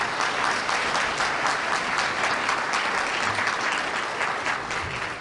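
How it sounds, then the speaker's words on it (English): Sustained audience applause at a City of Tampa event, a dense wash of clapping from a large crowd that stays loud and steady, with no voices over it. "Let's give her another round of applause"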